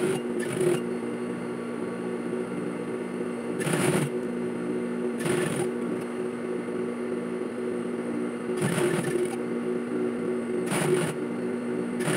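A sewing machine stitches a custom-made terno shawl in several short bursts of rapid mechanical whirring, separated by pauses over a steady low room hum, with no talking.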